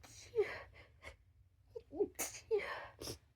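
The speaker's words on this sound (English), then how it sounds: "No, I'm not enjoying sneezing." A woman sneezes from allergies several times in quick succession, close and fairly soft, with small gasps and breaths between the sneezes in an otherwise quiet room.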